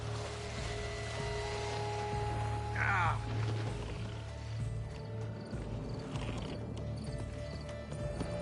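Horse hooves clip-clopping in a steady rhythm alongside a low mechanical rumble and background noise, while people talk over it.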